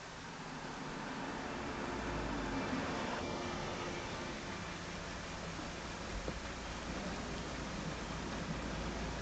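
Heavy rain pours down in a steady, dense hiss of falling water, even and continuous with no voices over it.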